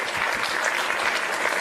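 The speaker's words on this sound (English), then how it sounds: "Give him a round of applause" Audience applause during a motivational talk, a dense, continuous burst of clapping from a large crowd, loud and even for the whole stretch.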